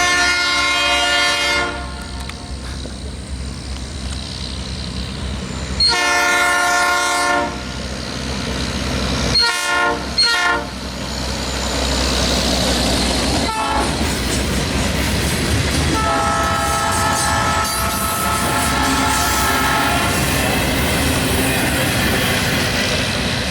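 A railway tie train rumbles past loudly and continuously in North East, Pennsylvania, its horn sounding in several long blasts, with rhythmic wheel clatter and mechanical screeching between them.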